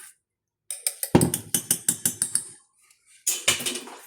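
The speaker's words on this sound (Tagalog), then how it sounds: "So, haluin lang natin maigi." Low carb almond bread batter is stirred by hand in a greased pan, giving quick rhythmic scraping and clinking strokes in a rapid series, a pause, then another burst, close and clear.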